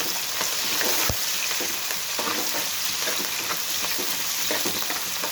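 Onions fry in oil in a pan for an amaranth-leaf stir-fry, giving a loud, continuous close-up sizzle with faint stirring scrapes and one sharp knock near the start.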